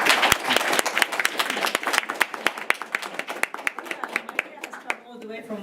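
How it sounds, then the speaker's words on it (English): Modest applause from a small session audience honors the presenters at a city transformation science session. Distinct, individual claps sound close by, fairly steady throughout, then taper as a voice begins at the end. "We can give them a round of applause."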